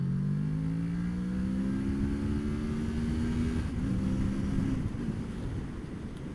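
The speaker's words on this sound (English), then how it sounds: "I'm going to pull up in 2nd gear and go Pulls away perfectly well in second." A Kawasaki 650 motorcycle pulls away in second gear, its engine droning low and steady as revs climb gradually, with wind buffeting the microphone throughout and a brief dip before the note continues.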